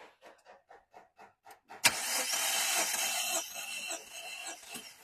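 A car engine cranks over on the starter during a compression test, a run of short rhythmic whirring pulses, then catches into a loud, steady rough running sound that eases off slightly near the end.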